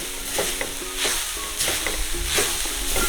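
Ingredients dry-roasting in a pan for payattam paniyaram, a loud close sizzle with rhythmic scraping strokes of a spatula stirring every half second or so.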